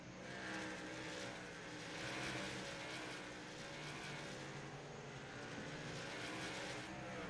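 Race cars circle North Wilkesboro Speedway in a steady, distant engine drone that swells gently and then eases, heard faintly and continuously with no one talking.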